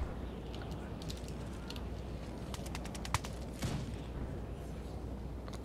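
Musket volleys in the Darthmod Empire Total War strategy game, scattered crackling shots and a few sharper reports over a constant battlefield din, with birdlike chirps in the background.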